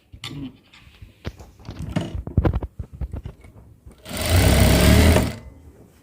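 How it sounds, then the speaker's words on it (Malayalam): A sewing machine stitches fabric for a garment hem, first in short irregular bursts of needle clatter, then one loud sustained run of fast stitching up close before it stops. "സ്റ്റിച്ച് ചെയ്ത് തീരും."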